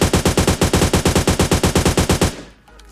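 M416 and AKM rifle spray in PUBG Mobile Lite: a loud, steady stream of about twenty evenly paced automatic shots, close and uninterrupted, stopping abruptly into faint ambience.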